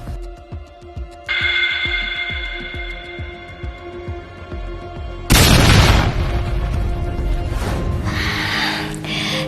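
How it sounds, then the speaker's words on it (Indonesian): An explosion sound effect: rhythmic clicking and a tonal hum give way to a sudden loud boom that rolls into crackling debris and rumbling aftershocks, close and dominant. "Yang tadi itu bukan ledakan beneran, tapi suara dari internet."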